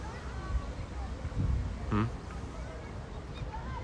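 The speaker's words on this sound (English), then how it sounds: "Beautiful little birdies." Ducks quack outdoors, a few short nasal calls fairly close amid ambient outdoor noise and faint voices.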